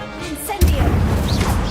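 A fire spell cast in Hogwarts Legacy lands as a sudden loud whooshing burst that crashes in and then roars on as a sustained rumbling blaze.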